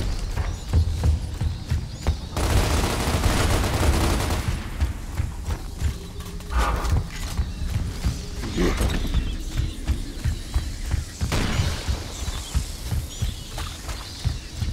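Gunfire in Gears of War Ultimate Edition, heard as rapid bursts of automatic shots in several clusters, mixed with game effects and someone talking.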